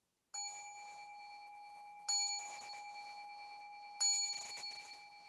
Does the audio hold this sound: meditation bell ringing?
yes